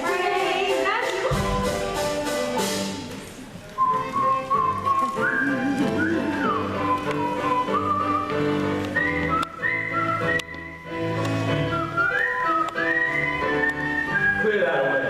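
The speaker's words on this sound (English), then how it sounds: "Was I whistling?" A person whistles a sustained, wandering tune, the clear melodic notes rising and falling steadily across the whole passage over a dense bed of other sound.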